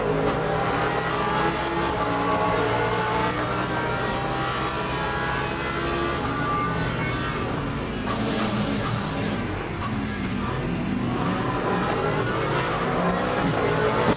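Race cars from the Ford and Porsche field pass on the bumpy Sebring track in the Le Mans Ultimate racing game, a steady loud engine drone with revving swells throughout and no talking.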